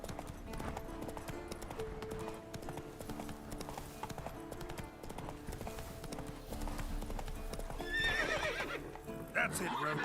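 Roach the horse gallops in The Witcher 3 with steady, rhythmic clip-clop hoofbeats, a neigh rising near the end over game music and ambience; a voice talks over it.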